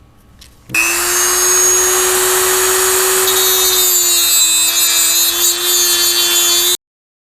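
Power tool whining steadily at high speed while cutting around the hex of a spark plug for an LT4 supercharger install. It starts abruptly, stays loud and constant, then stops sharply.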